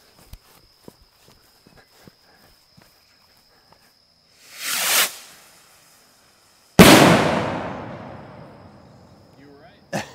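Salute bottle rockets launched outdoors at night: a whooshing hiss as one climbs, then a sharp loud bang with a long fading rumble echo, preceded by faint clicks and ticks and a steady high whine.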